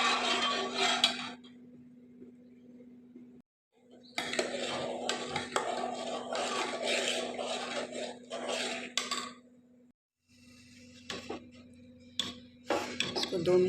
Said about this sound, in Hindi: इसको 2 मिनट और चम्मच चलाएंगे।